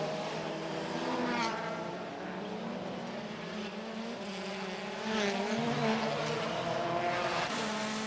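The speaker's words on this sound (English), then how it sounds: "On board with Nicky Katzberg, 12th place" A touring car engine drones onboard during a wet WTCC race on the streets of Marrakesh in rain and spray, holding a steady loud tone that rises and shifts through the gears.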